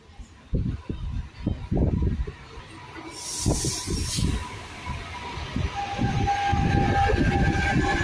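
A Trenitalia regional train rolls into Falconara Marittima station in Italy with a low rumble and rhythmic rattling, a brief hiss of brakes, while a public address announcement plays over it.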